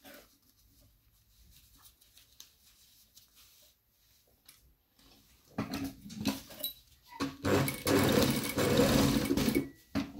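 Sewing machine stitching a zipped pocket, quiet at first and then starting into loud bursts of rapid mechanical needle chatter with short stops between runs, close by.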